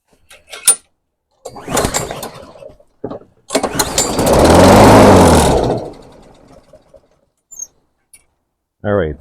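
A petrol lawn mower engine cranks with short pull bursts, then catches and runs for about two seconds before dying out, with a few brief knocks and a voice speaking at the very end.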